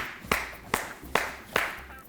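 Four sharp, evenly spaced hand claps ring out in a talk show studio, loud and close with quiet gaps between them, rather than a sustained round of crowd applause.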